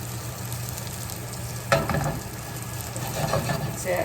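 Salmon and spinach sizzle steadily in a hot pan at home. Partway through, a sharp scraping stir and a louder burst of frying come in. A brief spoken remark is heard over the cooking.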